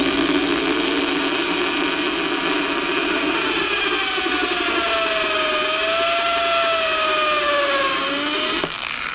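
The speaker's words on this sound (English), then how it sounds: "You see it drilled through the wood and through the plexiglass with no problem." Power drill boring through a wooden frame and plexiglass panel of a homemade lightbox, a steady loud whine with a slowly shifting pitch, continuous for several seconds before cutting off near the end, no talking.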